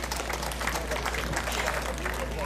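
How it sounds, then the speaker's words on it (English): A political rally crowd in Yigo, Guam gives a round of applause, a dense, steady patter of many hands clapping that carries on for several seconds, with a murmur of voices mixed in. "Please give a round of applause"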